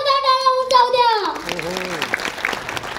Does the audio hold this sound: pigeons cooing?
no